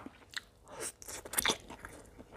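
Close, crunchy bites and chewing on cooked fermented pork skin eaten with fresh chili and garlic, in a few irregular wet crunches with no talking.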